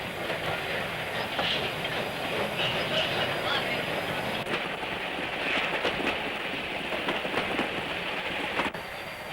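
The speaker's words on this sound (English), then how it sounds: "a WW Class 464 tank engine hauling a train out of Greymouth's riverside yards" A WW Class 464 steam tank engine hauls a train out of Greymouth's riverside yards in New Zealand, giving a steady mid-distance rumble with rhythmic wheel clatter and faint hissing throughout.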